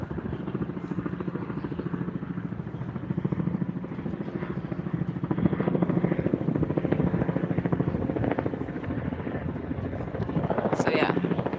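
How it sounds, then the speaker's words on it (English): A police helicopter flies overhead during a G7 protest standoff in a park, its steady rotor chop throbbing loud and continuous throughout, with wind and faint crowd noise around it. "Got a police helicopter and looks like media"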